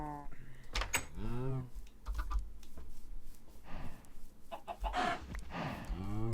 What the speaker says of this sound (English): If you're gonna kill a chicken, you gotta grab his meat.